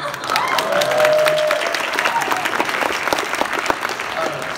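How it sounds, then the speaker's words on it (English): Loud audience applause with scattered cheers, a big crowd clapping steadily for several seconds. "can we have a big round of applause for all the single mothers out there?"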